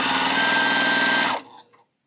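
A Juki TL-series sewing machine such as a TL 2010, TL 18 or 2020 stitches in a fast, steady, loud mechanical whir for about a second and a half, then stops abruptly with a few faint clicks.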